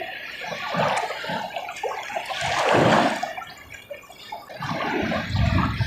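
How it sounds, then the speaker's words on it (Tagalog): Strong waves wash and churn at the water's edge at a tilapia fishing spot, a broad, rushing surge that swells and recedes in uneven pulses, close and steady, with no talk. "Lakas ang alon."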